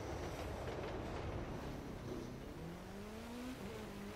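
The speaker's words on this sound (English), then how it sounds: "That was a passenger train." A passenger train passing in Chicago, a steady broad rumble with tonal wheel or horn-like lines emerging in the second half, moderately distant and continuous.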